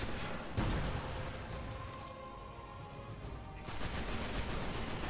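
Rocket launcher and gunfire in the Destiny video game, with a dense burst of shots up front, a quieter stretch with a faint tonal hum, then heavy firing returning near the end, loud throughout.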